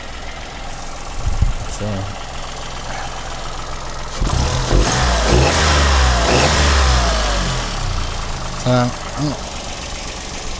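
A 2015 Mk2 engine fitted into a 2010 Mk1 Aygo runs close by, idling with a steady knock, then revving up and settling back; someone speaks briefly over it.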